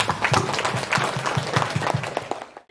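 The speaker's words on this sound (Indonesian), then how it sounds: "Tepuk tangan untuk kita semuanya" A crowd at a community Ramadan iftar and charity gathering in Medan applauds, with a thick, lively burst of many hands clapping close by that cuts off abruptly at the end.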